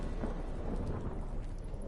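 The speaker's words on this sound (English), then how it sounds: "Didn't bargain for no storm." A thunderstorm in The Witcher 3 rumbles as a low, continuous roll under steady rain hiss, broad and unbroken with no distinct strikes, heard on its own.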